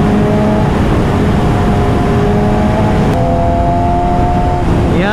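A superbike accelerating on an open road, its engine droning loud and close in a continuous rising whine with steady wind and road noise, and no talk.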